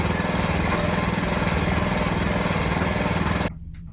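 A honey wagon septic pump truck emptying an RV's sewage and gray water tanks drones with a loud, steady mechanical roar that cuts off abruptly near the end, leaving only faint low rumble.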